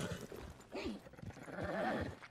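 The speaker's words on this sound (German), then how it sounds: "Da stehen hier auch ganz viele Pferde rum." Horses in the video game Red Dead Redemption 2, snorting and whinnying in short bursts with a faint clopping beneath, a few close calls over a couple of seconds.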